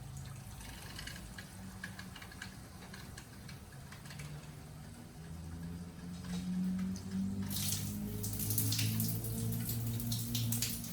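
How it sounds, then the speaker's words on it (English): Water flowing and draining out of a water dispenser being flushed, a steady splashing, trickling wash that grows louder and brighter partway through, with no talking. "after that we let the water flow out."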